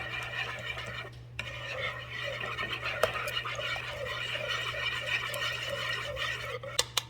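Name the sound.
whisking milk into cake batter in a bowl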